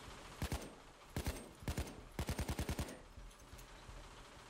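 Gunfire in the video game Payday 2, several short bursts of rapid automatic shots, close and punchy, separated by brief pauses over a low background rumble.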